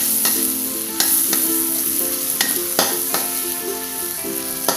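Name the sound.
stirring ground spices with lemongrass and bay leaves in a pan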